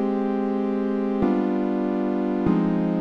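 Plain synth chords in Ableton Live, three sustained chords changing at even intervals, each a steady held tone with no rhythm, played alone.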